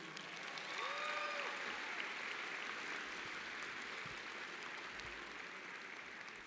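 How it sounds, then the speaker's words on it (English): Sustained audience applause at a high school commencement, steady, dense clapping from a large crowd heard from a distance, with faint whistles or cheers near the start. "Please give them all a huge round of applause."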